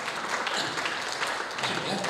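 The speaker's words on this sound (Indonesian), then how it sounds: "Tepuk tangan buat dia." A church congregation at a Sunday service applauds in a steady, continuous wash of clapping, mixed with voices throughout.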